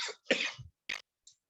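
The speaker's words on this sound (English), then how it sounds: "sorry for the coughing." A man coughs during a lecture on translation and interpreting, a couple of short throaty bursts followed by a smaller one and a faint tail, fairly quiet and close with no speech.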